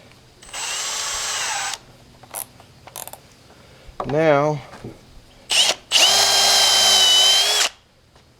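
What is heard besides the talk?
drilling metal with a drill bit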